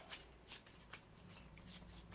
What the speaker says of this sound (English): I shuffle up and draw a new 5